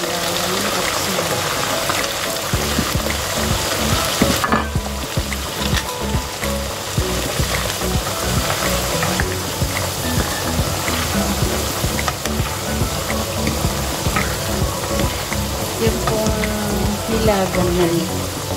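Peanuts frying in a pan of oil, a loud continuous sizzle with frequent scraping and stirring clatter throughout, with a person talking now and then over the cooking.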